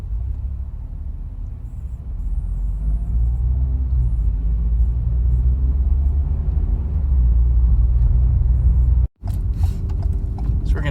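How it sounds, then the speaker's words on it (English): Steady low engine rumble and road noise from inside a Ford EcoSport SE 4WD driving down a narrow Boston street, even and continuous with a brief dropout near the end and no talking. "I really do like how this drives."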